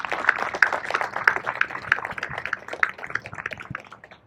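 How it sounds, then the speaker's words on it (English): A crowd at a military change of command ceremony applauds paratroopers, a dense, moderately loud patter of many hands clapping steadily for several seconds, then thinning out. "Please join me in a round of applause for our paratroopers."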